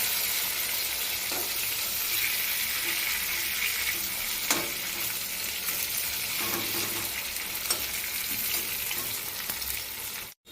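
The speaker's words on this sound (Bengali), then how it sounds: "এগুলোও ভেজে নামিয়ে নেব" Pieces of food fry steadily in a pan of hot oil, a dense continuous sizzle with occasional faint clinks and crackles, close and unbroken until an abrupt stop.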